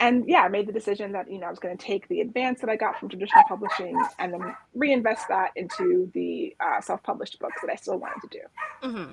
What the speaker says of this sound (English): that is my dog going crazy for some reason